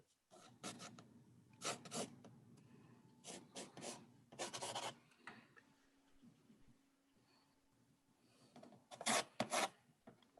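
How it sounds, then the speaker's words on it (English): A watercolor brush scrubs wet paint with clean water on paper in short, close rasping strokes, several bursts separated by quiet pauses. "I'm going to just rub it with clean water because I don't want it to dry as a sharp edge"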